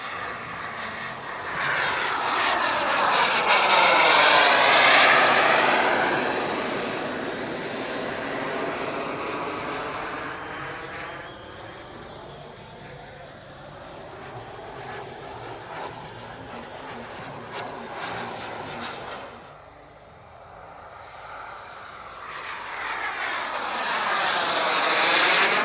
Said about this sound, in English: All about speed, agility, getting to the enemy as quick as you possibly can. The MiG.